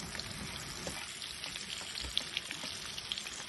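Vegetables frying in a pan while pheasant is cooked, a steady close sizzle with small crackles and pops throughout, no voices.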